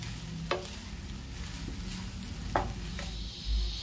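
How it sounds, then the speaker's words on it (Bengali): Maggi noodles with vegetables are stirred in a pan over a faint low sizzle, with a few sharp scraping clatters of the utensil against the pan at intervals. "এবার একটু নাড়াচাড়া করে নিলেই রেডি হয়ে যাবে ম্যাগি"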